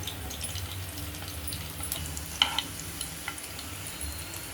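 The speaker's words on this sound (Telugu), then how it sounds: "ఇందులో వెల్లిపాయలు వేసుకుందాం కొంచెం" Garlic frying in hot oil as a tempering for spinach dal gives a steady, soft sizzle, with a couple of brief clinks partway through and no voices.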